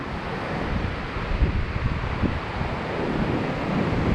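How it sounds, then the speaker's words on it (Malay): Sea waves washing onto the shore at Laweung beach in Pidie, a steady broadband rush of surf blended with wind buffeting the microphone, continuous and fairly loud with no talking. "Ini panorama tepi laut Laweng, Kabupaten Pedia."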